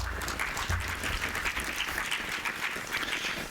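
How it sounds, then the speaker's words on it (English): Sustained audience applause at an evening public lecture event, a dense steady patter of many hands clapping throughout, moderately loud and continuous with no talk over it. "Thank you for the applause."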